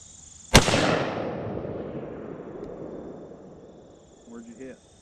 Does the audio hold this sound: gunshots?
yes